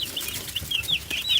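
Chickens make high chirpy, rising calls in quick succession, close by and fairly loud, over a faint background murmur.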